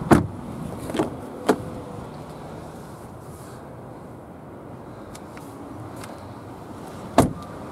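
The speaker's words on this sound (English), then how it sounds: "Front and rear electrics, electric windows even" Electric windows on an Audi A3 1.6 TDI Sport Sportback with a grey cloth interior, a low steady motor whir inside the car, framed by a few sharp clicks at the start and end.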